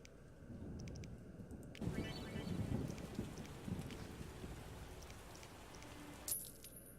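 Rain downpour in The Witcher video game, a broadband hiss of falling rain that rises abruptly and holds for several seconds over low rumbling, then cuts off with a brief clatter.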